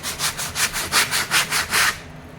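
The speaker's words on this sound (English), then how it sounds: "Surprisingly, the sanding is going really, really easy." About eight brisk back-and-forth rasps of sandpaper on wood in a steady rhythm, close and loud, then stopping.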